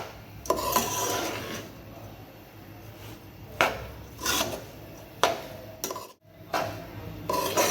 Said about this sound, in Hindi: इस तरह से थोड़ा थोड़ा लेके इसे हम भून लेंगे अच्छे से